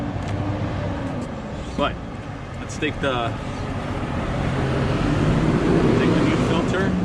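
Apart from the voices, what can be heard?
street traffic noise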